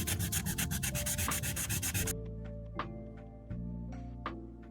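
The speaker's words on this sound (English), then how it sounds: "So I'm gonna finish sanding these" Rhythmic sanding strokes scrape back and forth across dried spackle on a wall for about two seconds, then stop, leaving a quiet room with a few faint knocks.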